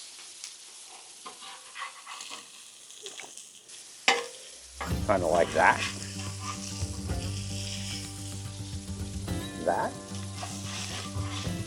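Hot dogs with cheese sizzle loudly on a griddle, a steady frying hiss that starts abruptly partway through after quieter handling noises, with brief talking.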